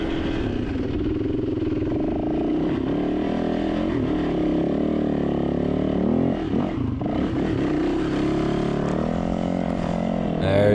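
Hard enduro motorcycle engine revving and lugging as the bike climbs over rocks in Jawbone, a steady close engine note rising and dipping with throttle blips and scraping under it.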